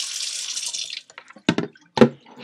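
Cold water runs from a tap into a sink for soaking hand knits, a hissing rush that fades out, followed by a few brief splashy gurgles close by.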